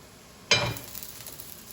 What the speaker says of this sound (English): Let's stir the kale up.